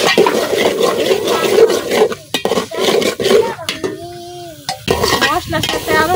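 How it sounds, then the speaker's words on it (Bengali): Potatoes stirred into fried spice masala in a pan, with repeated scraping and clanking of a spatula against metal over a continuous sizzle of frying, close and loud; brief voices murmur in the background. "মশলার সাথে আলুটা খুব ভালোভাবে মিশাই লইছি"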